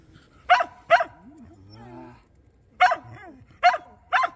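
Samoyeds, an adult pack and a puppy, give five sharp, close barks in two pairs and a final trio, with a soft whimpering whine between them.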